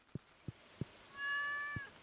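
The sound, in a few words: cat meowing in the video game Stardew Valley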